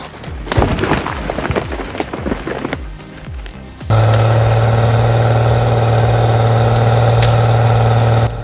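John Deere 640H skidder engine working in low gear on a steep logging hillside, starting amid mixed clattering and then settling into a loud, steady, droning roar with a strong low hum that holds unbroken to the end.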